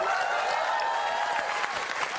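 A studio audience on an Indonesian TV comedy quiz show claps together in steady, dense applause that holds for about two seconds, fairly loud with no break.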